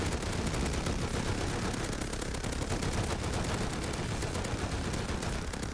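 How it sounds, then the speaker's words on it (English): Minigun fire from heavy enemies in the video game Rust, a dense, continuous rapid rattle of shots sustained at even loudness throughout. "here comes the heavies, and as you can see, some of them have the minigun"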